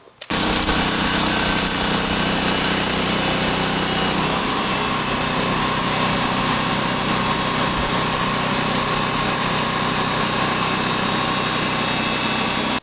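A small sawmill powered by a light engine cuts through a large log, a loud continuous high-revving engine whine and cutting drone that starts abruptly and runs steadily without pause, close up.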